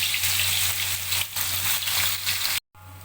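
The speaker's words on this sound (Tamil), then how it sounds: "இப்போ நம்ம இந்த ஆட்டிறைச்சியை வந்து சைவ ஆட்டிறைச்சியை வந்து பொரிக்கலாம்" Steady, dense sizzling of vegetarian mock mutton frying in hot oil, loud and close, with a faint low hum underneath and a brief dropout near the end.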